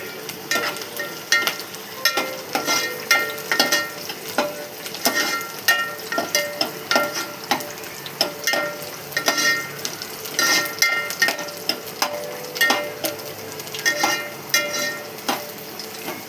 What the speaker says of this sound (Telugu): కొంచెం గోల్డ్ కలర్ వచ్చేదానికి వేయించుకోవాలి. బాగా వేగాలి.